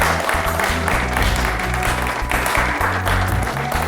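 A studio audience at a devotional quiz show claps vigorously and continuously, close and loud, over sustained low music.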